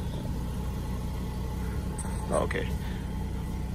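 A Buick LeSabre engine idling after cranking up with slight hesitation, a steady low rumble running throughout, with someone briefly speaking over it.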